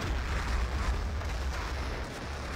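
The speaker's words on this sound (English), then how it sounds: "There's the artillery we were looking for." Artillery fire in the video game Battlefield 2, a heavy rumbling barrage of deep booms and blasts rolling continuously, loud and close, with no speech over it.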